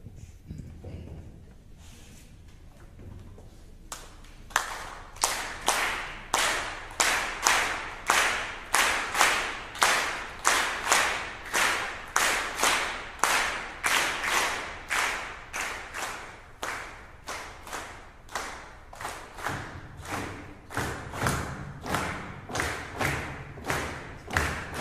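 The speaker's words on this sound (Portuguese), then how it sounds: "Eu digo quando vocês têm que fazer isso nas palmas e eu digo quando vocês têm que parar nas palmas" Concert audience at an orchestra performance claps in unison on the beat, rhythmic loud synchronized claps starting after a few seconds and continuing steadily for about twenty seconds.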